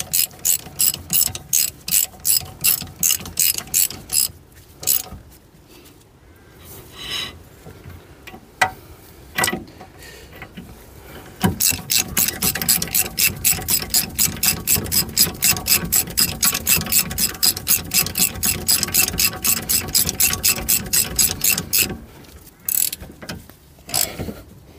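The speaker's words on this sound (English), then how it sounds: "tighten these up, it'll align the caliper." A ratchet tightens brake caliper bolts on a Skoda 120 during a front bearing service, clicking in fast, loud, close bursts with a few pauses, then a long steady run of rapid clicks.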